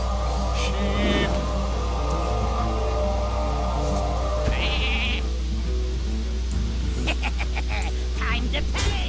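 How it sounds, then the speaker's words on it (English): A cartoonish sheep bleat sounds as the Polymorph spell lands in the Hearthstone card game, with other game effects and a voice around it. "Sheep."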